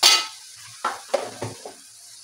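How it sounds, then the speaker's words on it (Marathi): Chicken masala with a spoonful of garam masala stirred and sautéed in a pan, with several brief scraping stirs and a soft, low sizzle running underneath, close and fairly loud. "त्याला आपण परतून घेऊ चांगल्या पद्धतीने."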